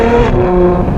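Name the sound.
Novitec Ferrari 812 GTS exhaust revving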